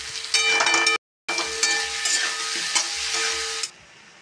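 Fried potatoes are stirred into sizzling spices of red chilli, cumin, coriander and turmeric, giving loud scraping and bubbling frying sounds with a brief silent break near the start.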